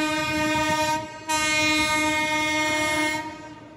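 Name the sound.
passenger train passing on the adjacent track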